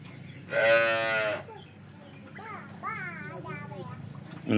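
A cow at a Banaskantha livestock sale gives one loud, drawn-out moo close by, followed by people talking amid light farmyard noise.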